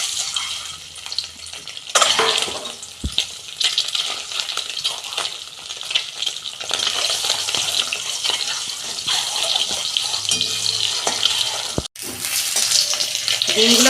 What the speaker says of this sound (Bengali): তেল গরম হয়ে গেছে, ডিমগুলো দিয়ে দিচ্ছি।